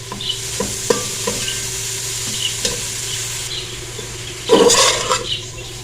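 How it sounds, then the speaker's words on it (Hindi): Grated carrots for gajrela sauté in a pan, a low steady sizzle broken by occasional clinks and scrapes of stirring, with a louder burst of scraping near the end. "और अब हमने गाजरों को अच्छे से भून लेना।"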